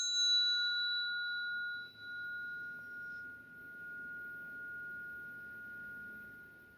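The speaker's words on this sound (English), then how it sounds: "So let's do my sound bell." A single bell is struck once and rings out with a clear, sustained tone that slowly fades, heard alone in a quiet room.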